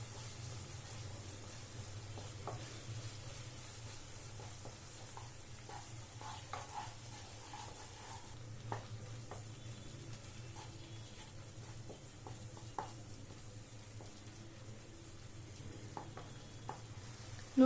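Cumin powder frying in a pan over a low flame, heard as a faint, steady hiss with occasional soft scrapes of stirring and no voices.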